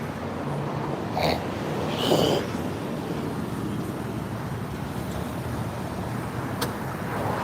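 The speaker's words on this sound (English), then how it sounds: "It's a pretty loud truck right there." Steady low road rumble of a loud truck going by, a broad continuous roar with a slight swell in the middle, no talking.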